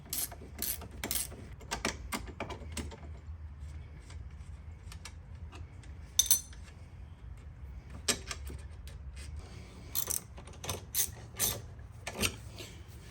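Intermittent metallic ratcheting and wrench clicks while a bolt is undone on a CFMOTO rear control arm, bursts of clicking separated by brief pauses, close and moderately quiet.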